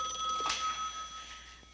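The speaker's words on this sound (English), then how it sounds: "Oh, I hope it's not one of those obscene phone calls." A telephone bell rings once in a quiet indoor room: a brief, bright ring about midway that fades quickly, faint and slightly distant, with no talk.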